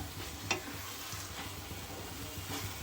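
Mushroom Maggi noodles with onion, tomato and masala sizzle steadily in a pan while being stirred, with soft scraping strokes and a few brighter clicks over a continuous frying hiss; no talking.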